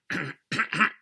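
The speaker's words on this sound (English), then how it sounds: "Just clearing my throat" A person clears their throat three times in quick succession, close and fairly loud, with a short pause after the first rasp and no speech.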